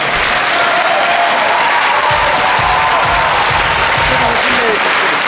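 Circus audience applauding at the opening of the Ciniselli Circus on the Fontanka, a loud, steady wall of clapping from a large crowd with faint cheers mixed in.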